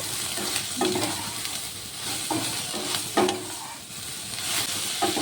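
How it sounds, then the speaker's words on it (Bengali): Taro stolons with turmeric and salt frying in a pan, a continuous close sizzle with periodic scraping strokes of a spatula stirring through them, no voices. "নুন হলুদটাকে দিয়ে আবারও একটু নেড়ে চেড়ে আমি কিছুক্ষণ রান্না করে নেব।"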